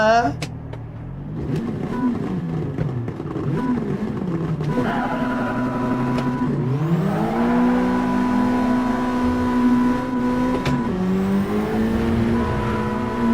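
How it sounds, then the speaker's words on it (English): A Mazda Miata engine in Gran Turismo 7 revs up and down while a steady electronic rev limit warning tone sounds on top, with a person talking throughout. "it's got a rev limit indicator sound and it's really annoying."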